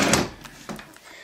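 A dresser drawer being opened or closed in a bedroom, with a sharp wooden slide and thunk at the start followed by a few softer knocks, close and fairly quiet.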